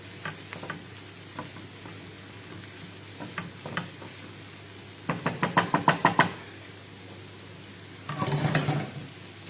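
Green peas cook in a pan, with soft sizzling and a series of spoon knocks and scrapes against the metal coming in short irregular clusters, fairly close and moderately quiet.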